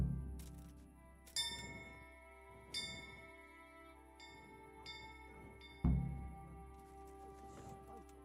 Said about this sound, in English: I'm gonna ring the bell.